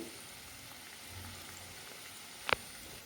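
Khoa jamun dumplings fry in hot oil with a soft, faint, steady sizzle, broken once by a single sharp clack of a utensil against the pan.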